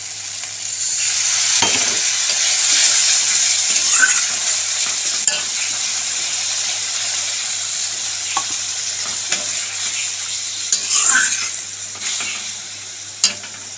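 Spice paste for a Bengali parshe fish curry sizzles in oil after water is poured in, a steady hiss with scattered stirring scrapes and clinks, loud and close with no talking.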